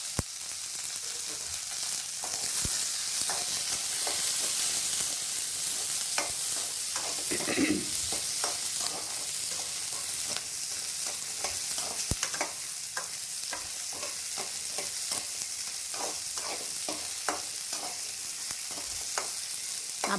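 Onion and chili sauté in a pan under a steady close sizzle, with frequent scraping stirs and clicks of the spatula against the pan repeating throughout, no talking.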